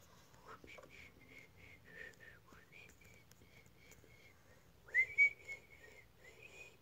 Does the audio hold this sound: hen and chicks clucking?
no